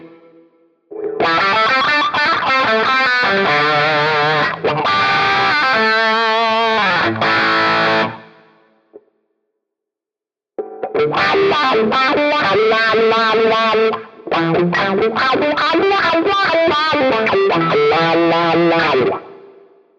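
Electric guitar played through a wah effect on the S-Gear amp plugin, sweeping, distorted phrases in two long passages separated by a short silence, loud and upfront with no talking.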